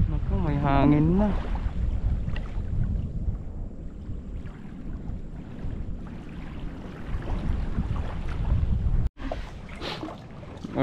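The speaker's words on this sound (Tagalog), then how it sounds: "may hangin na." Wind gusts buffet the microphone on a small fishing boat, a steady rushing roar on open water, with a short whistling call near the start and a brief dropout toward the end.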